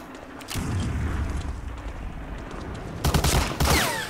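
Sustained automatic gunfire rattles continuously, then sharper bursts and booms break out near the end, a heavy machine gun in Medal of Honor: Allied Assault on the Omaha Beach level.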